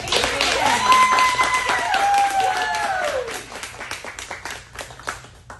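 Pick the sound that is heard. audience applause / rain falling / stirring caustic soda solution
audience applause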